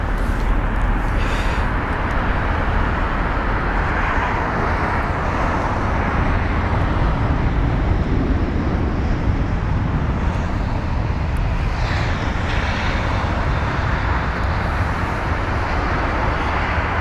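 An airplane lands at London Heathrow, a broad, loud roar of engine and rushing air that holds steady without a break and fades slightly toward the end.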